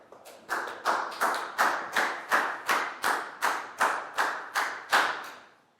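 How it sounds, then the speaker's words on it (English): A small group in a classroom claps in a regular rhythm, about a dozen evenly spaced sharp claps, close and fairly loud with no talking. "big round of applause for Net, please, guys"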